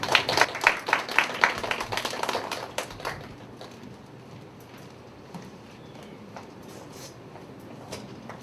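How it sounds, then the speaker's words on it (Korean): Congregation applause during a Korean church worship service, a burst of dense clapping for the first three seconds that quickly thins out, leaving quiet room tone with a few scattered claps. "큰 박수로"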